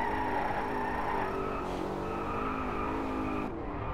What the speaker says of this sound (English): A weight transfer drift.